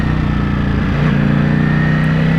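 Ducati Panigale V4S motorcycle engine in race mode while riding, a steady loud mid-pitched drone with a strong low hum and a slight rise in revs partway through, close and continuous with no talking.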